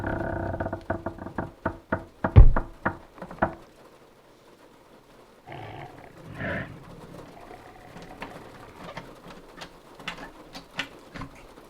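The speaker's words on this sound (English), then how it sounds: "it's trying the door." An animal on the porch of a forest cabin knocks and rattles the door in a quick run of sharp, loud thumps, then goes quiet before softer shuffling and scattered taps follow.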